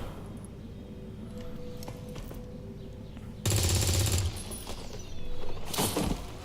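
Gunfire in the video game XCOM 2: two loud, dense bursts of shots, the first about a second long and the second shorter, break over a low, steady game ambience.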